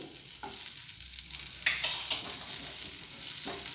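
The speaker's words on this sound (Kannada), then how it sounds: "ಇದೇ ಕಡಾಯಿಗೆ ನಾನು ಒಂದು ಈರುಳ್ಳಿ ಹಾಕೋತಾ ಇದ್ದೀನಿ" Chopped medium-size onion frying in hot oil in a kadai, with a steady broadband sizzle and occasional scraping stir noises, close and moderately loud, without any talking.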